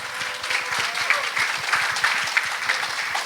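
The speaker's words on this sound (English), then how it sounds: "And let's give another round of applause for the panelists." A conference audience applauds the panelists after a discussion session, steady, full clapping from a crowd filling the room throughout.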